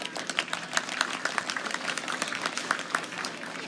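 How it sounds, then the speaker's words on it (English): An audience at a dolphin show at the Vancouver Aquarium gives steady, moderately loud applause in an open space, with scattered sharper claps standing out. "Let's give everyone a welcoming round of applause."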